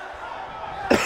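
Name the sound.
cough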